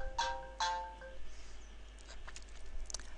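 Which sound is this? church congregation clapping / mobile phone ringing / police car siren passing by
mobile phone ringing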